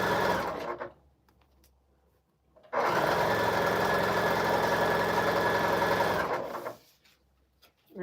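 A sewing machine stitches a quilt panel in one steady, close, mechanical whir of about four seconds, with quiet pauses before and after.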